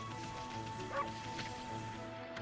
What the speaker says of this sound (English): I love how there's just a button to bark.